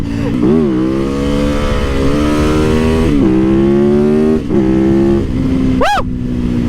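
A 450 motorcycle close by revs and accelerates through several gear changes, with its engine note climbing and dropping repeatedly, ending in a sharp high rev.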